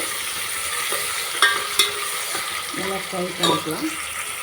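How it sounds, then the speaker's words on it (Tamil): Chopped coriander and mint frying in a pan for tomato rice, a steady broadband sizzle with a few sharp stirring clinks and scrapes near the end, no voices. "அப்புறம் இப்போ கொத்தமல்லியும் புதினாவும் பாதி நம்ம கட் பண்ணி வச்சுருந்தோம்ல, அதில் பாதி சேர்த்துக்கலாம். நல்லா ஃப்ரை பண்ணிக்கலாம்."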